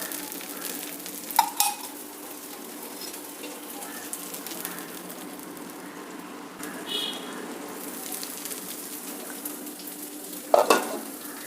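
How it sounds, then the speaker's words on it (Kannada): A masala dosa fries in generous oil, ghee and butter on a hot pan, giving a soft continuous sizzle with a few sharp clinks and scrapes from a utensil scattered through, and no talking. "ಇವಾಗ ಎಣ್ಣೆ ಹಾಕಬೇಕು ಚೆನ್ನಾಗಿ ಮಸಾಲೆ ದೋಸೆಗೆ ಎಣ್ಣೆ ತುಪ್ಪ ಬೆಣ್ಣೆ ಎಲ್ಲ ಧಾರಾಳವಾಗಿ ಹಾಕಬೇಕಾಗುತ್ತೆ"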